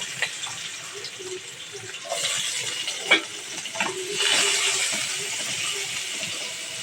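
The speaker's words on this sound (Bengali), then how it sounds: "তো আমার তেল গরম হয়ে গিয়েছে এখন আমি পেঁয়াজ কুচিগুলো দিয়ে দিব" Finely chopped onions dropping into hot oil, heard as a broad, steady frying hiss that swells and grows louder midway, with occasional scraping of a utensil close by and no talk.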